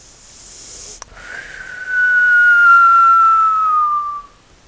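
A single loud sustained whistle, a steady high tone held for about two seconds and gently falling in pitch, close and prominent after a brief click, with no talking.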